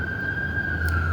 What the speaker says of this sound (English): You hear the siren, okay? It's been going.